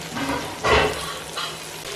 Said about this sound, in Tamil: காய் வந்து ஒரு 5 நிமிஷம் நல்லா எண்ணெயில் வதங்கிடுச்சு